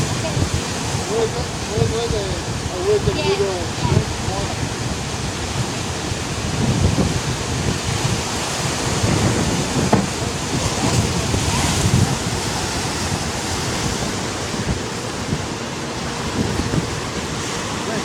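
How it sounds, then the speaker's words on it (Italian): Rough sea waves breaking along the Hana coast of Hawaii, a continuous loud roar of surf with wind buffeting the microphone, briefly joined by distant voices. "Qui il mare è un pochino agitato."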